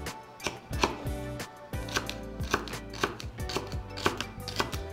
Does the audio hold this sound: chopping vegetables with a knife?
yes